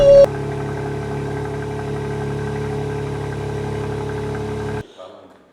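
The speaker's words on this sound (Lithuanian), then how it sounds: "mašiną užkūrėm, šypseną veide, kūrėsi, dirba variklis gražiai" A BMW M4 Competition engine idles with a steady low mechanical hum and drone after a brief louder burst at the start, holding even for several seconds before cutting off abruptly near the end.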